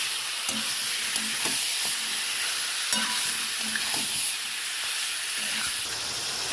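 Marinated chicken is stirred and sautéed in a hot pan, a continuous sizzle and hiss broken by repeated scraping strokes of a spatula at an uneven rhythm, close by and fairly loud, with no talking.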